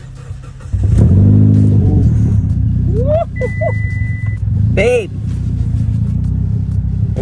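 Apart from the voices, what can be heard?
Mitsubishi Evo X car engine starting and revving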